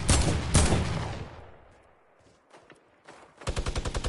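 Fortnite gunfire: loud bursts of shots open the clip and trail off, then rapid automatic fire returns close by in a quick, even rhythm at the end.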